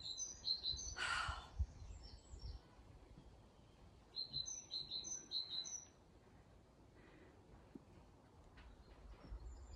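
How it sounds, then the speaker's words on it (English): Faint, high birdsong chirps arrive in two short clusters, early and again midway, over a quiet outdoor background. "Isn't it nice to be able to hear the birds?"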